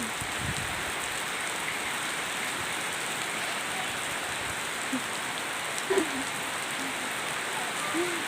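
Heavy rain pours down in a steady, dense hiss, with a few faint splashes and drips standing out now and then.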